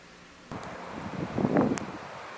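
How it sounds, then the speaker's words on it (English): Strong wind gusts during a Minnesota snowstorm blow hard against the microphone, a rough rumble that surges in and swells toward the middle, loud and close. "the winds gust up close to 50 miles an hour"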